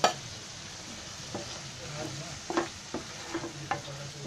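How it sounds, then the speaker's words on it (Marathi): Oil sizzles softly in a pan while spices fry for a spicy cluster bean curry, a faint steady hiss broken by a few light scraping stirs and utensil taps. "हे बघा असं चरचरत आहे ना, म्हणजे ते चांगलं भाजलं असं"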